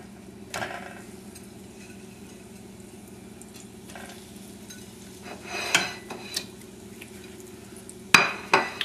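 Salmon and shrimp croquettes fry in hot oil with a low, steady sizzle, broken by a few sharp clinks and scrapes of utensils against the pan near the end.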